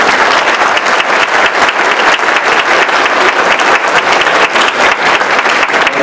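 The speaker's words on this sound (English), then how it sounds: "Give a round of applause." Dense, steady clapping from the audience at a 2015 sheriff's candidate forum in Berkeley County, loud and sustained for several seconds with no talk over it.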